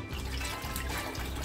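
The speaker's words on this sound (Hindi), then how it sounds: "और इसमें मैं ये पानी और डालूंगी" Water pours steadily into a pot of creamy kadhi with pakoras, a continuous soft splashing trickle that runs nearly unchanged from start to finish, close by and fairly quiet, with no talk.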